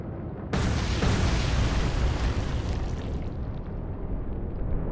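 Torpedo explosions strike a warship in the naval video game Atlantic Fleet, a sudden loud broadband blast followed by a long, sustained rumbling roar that slowly fades, with no talk over it.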